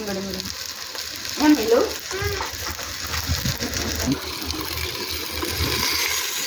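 Mutton curry bubbles and sizzles in a pot as it is stirred, with a steady frying hiss and occasional scraping, while people talk over it.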